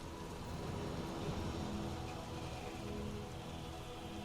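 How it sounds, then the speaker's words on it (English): Steady rainfall in a fantasy video game near dwarf ruins, a continuous even hiss of drops on surfaces with no pauses and no voices over it. "It's raining currently, Mirri."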